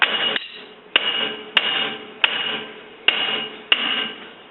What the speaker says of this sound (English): if you're beating something to death with a hammer